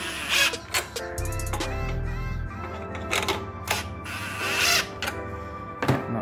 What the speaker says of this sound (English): we're going to grab our 10 and we're going to go ahead and tighten this up.